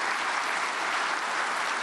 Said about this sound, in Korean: 박수로 환영하시겠습니다